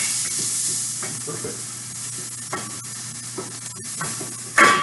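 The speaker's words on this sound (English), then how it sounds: "once you start hearing it do its little sizzle thing, give it a stir" Steady, loud frying sizzle of vegetables in a pan with occasional scraping stirs, and a brief spoken word near the end.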